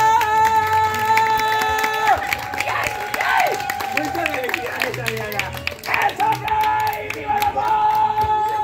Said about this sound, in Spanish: Fuerte los aplausos, compadre.